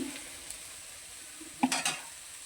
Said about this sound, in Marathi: मसाला फ्राय करण्यासाठी आपण तेल टाकूया